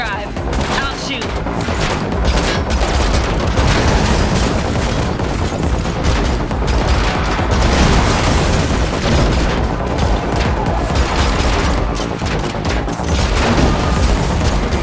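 Dense, loud gunfire and booming blasts during a car chase in The Matrix Awakens, an Unreal Engine 5 game, rapid bursts and explosions pounding continuously over engine roar, with voices speaking briefly amid the chaos.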